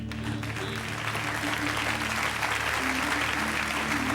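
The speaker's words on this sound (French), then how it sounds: "vous faites bien d'applaudir" A studio audience at a French television game show breaks into loud, sustained applause, a dense and even wash of clapping that holds steady throughout.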